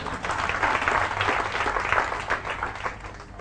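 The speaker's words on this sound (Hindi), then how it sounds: "तो इनके लिए तालियां बजाओ एक बार।" A seminar audience in India bursts into brief, full applause, with dense clapping that rises and then starts to fade toward the end.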